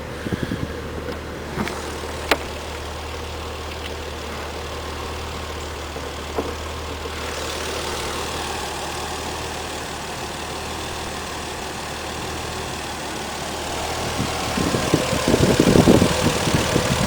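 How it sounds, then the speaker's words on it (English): A 1994 Toyota Supra with a single-turbo engine idles in a steady, low, smooth hum heard up close, with a few faint clicks and a rougher rumble building near the end. "Really quiet sounding motor."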